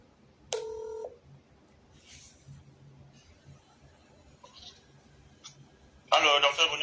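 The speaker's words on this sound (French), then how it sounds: "Je vais un peu essayer de l'appeler" A phone call being placed during a broadcast interview: a short two-tone dialing beep, then a burst of ringback or ringing tones at the end, over a faint background hum and murmur.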